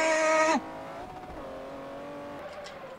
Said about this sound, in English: And that's just a drift.